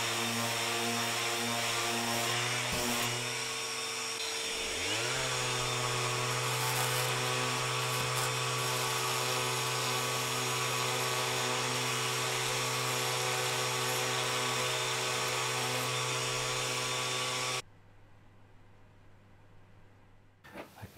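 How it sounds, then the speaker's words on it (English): A power sander runs steadily on wooden toast tongs with a high, whining drone, briefly bogging as it presses into the wood, then cuts off near the end, leaving quiet room noise. "I'm gonna give everything a sand down, and whilst I've got the sander out"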